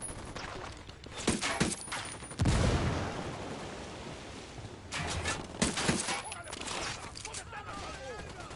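Bursts of automatic gunfire and heavy blasts in the video game Ghost Recon Wildlands, rapid clustered shots with a loud boom-like impact and trailing rumble, fairly close, with voices shouting over the combat.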